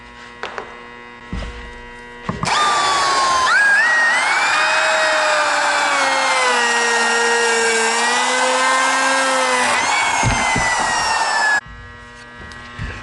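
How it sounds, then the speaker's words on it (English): Handheld router with a flush-trim bearing bit trimming masonite along the edge of a wooden stair riser; a loud, steady high whine with a shifting pitch runs for about nine seconds, starting and stopping abruptly between quieter workshop noise. "if I go counterclockwise around the perimeter of my riser, the bearing will stay nice and right up against the wood there and do a nice job trimming it"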